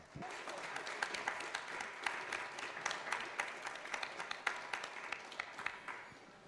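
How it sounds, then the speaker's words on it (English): Quiet, steady applause from an audience at a photography event welcomes two artists to a conversation, a soft even patter of many hands with a few sharper claps standing out. "Both of them are here for the conversation, and please applaud them."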